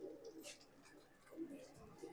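Pigeons offered for sale, including Punjabi and Madrasi breeds, cooing softly in low, rolling bursts close by, with faint background noise and someone talking over them.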